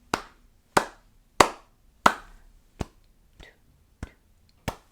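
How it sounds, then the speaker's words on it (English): Eight sharp, separate hand claps fall in an even beat, the first four crisp and loud and the later four softer, a call-and-response clapping pattern heard close with nothing else around it. "So first, with clapping, I'm going to go first and clap."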